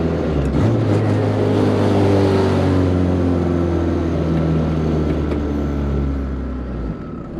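Turbocharged Honda B20 engine with VTEC revving hard in a car, a loud steady engine drone with strong low harmonics that climbs and holds before cutting off near the end.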